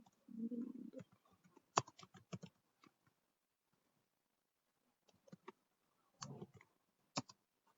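Computer keyboard typing in short, quiet bursts of sharp key clicks, with pauses of near silence between clusters and a brief low hum at the start.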